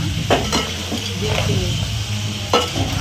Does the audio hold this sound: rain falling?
no